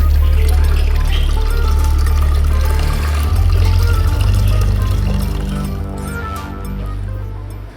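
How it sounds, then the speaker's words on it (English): Paper pulp mixture and its water being strained through a cloth for model papier-mâché, giving a steady, close pouring and splashing wash of liquid that tapers off toward the end. "You take this pulp mixture with its water and strain it through a cloth."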